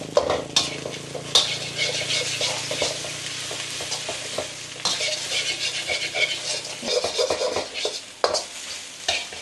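A spatula chops and stirs pork fried rice in a hot pan, with clattering metal taps over a continuous sizzle, close and busy, with no one talking.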